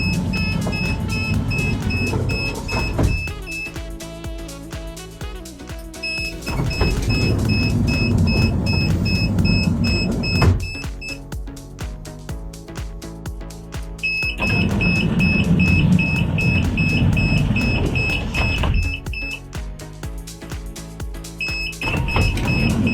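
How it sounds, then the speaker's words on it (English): A CEZAM 304 electric drive runs the sliding side door of a Toyota Hiace H200 on a test bench: steady motor whir and mechanical rumble in several cycles, broken by pauses, with recurring high electronic warning beeps over the movement. "the video showing how the CEZAM 304 electric drive kit works on our Toyota Hiace H200 test bench"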